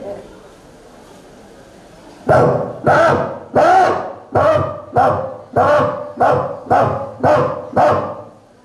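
A human voice imitates a dog, barking about ten times in a quick, steady rhythm after a couple of seconds of quiet room noise.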